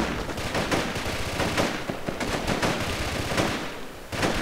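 Dense bursts of rifle and machine-gun fire at a fort in the Vietnam War shooter Project Reality, rapid overlapping shots that run steadily throughout, loud and close, with no talk.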